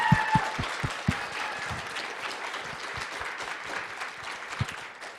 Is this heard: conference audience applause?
yes